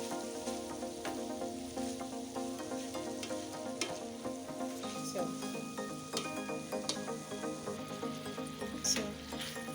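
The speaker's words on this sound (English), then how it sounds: "So at this point I'm going to stir it properly." Chicken sauce with sweet pepper sizzling in a pot as it is stirred, a steady soft crackle with occasional scraping clicks, fairly quiet and close, with no talking.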